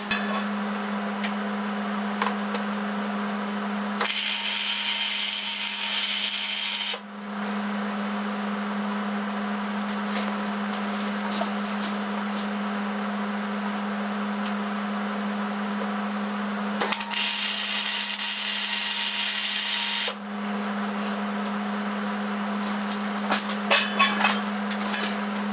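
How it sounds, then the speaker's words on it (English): Flux-core wire welding lays tack welds on a steel welding table, two bursts of harsh crackling hiss of about three seconds each standing out over a steady background hum, with scattered clicks between them. "I'm just going to walk around and start doing my welds"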